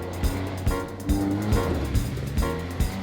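An off-road 800 vehicle accelerates hard at speed, its engine droning loud and close with rising throttle surges and repeated revving bursts, plus rushing wind and terrain noise.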